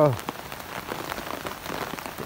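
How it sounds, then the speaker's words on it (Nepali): Steady patter of rain striking a surface in cold, windy winter weather in Nepal, a soft continuous hiss with scattered drops, fairly quiet and even throughout. "एकदमै चिसो हावा चलेको छ झरी लागेको छ"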